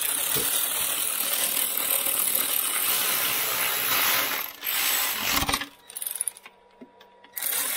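A ratchet spins and clicks while bolts on an engine are nipped up during a rebuild, a dense continuous mechanical rattle for several seconds that then breaks into short, scattered bursts with brief quiet gaps.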